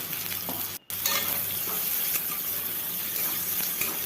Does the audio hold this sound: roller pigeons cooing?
no